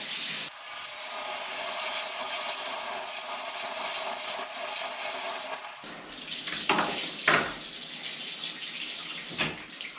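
Water poured steadily over a waterproof motorcycle glove, a continuous close splashing rush for several seconds that then breaks into irregular trickles and spatters as the flow changes.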